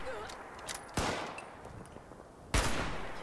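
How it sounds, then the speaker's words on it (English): Enemy gunfire in the game Fallout 76, with two sharp loud shots about a second and a half apart over a dull background of game ambience. "There's still one up here trying to take a pot shot at me."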